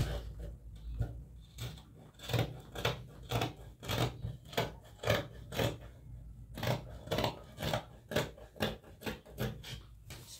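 Scissors cutting fabric for a girl's ball dress with sleeves; a close series of rhythmic crisp snips and rasping slices, repeated steadily with a brief pause midway, no speech.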